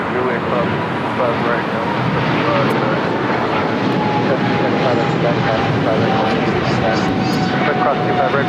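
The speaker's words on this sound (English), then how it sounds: "Singapore flight 11 now rolling down 25 right" Singapore Airlines jet rolling down runway 25R at LAX, a loud steady engine roar that holds for the whole stretch with little change, with talk on and off over it.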